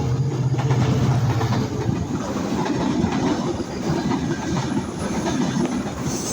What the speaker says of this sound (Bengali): ট্রেনটা একদম আমাদের কাছে চলে আসছে